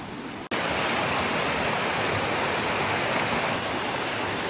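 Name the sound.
waterfall, falling water among trees in Korea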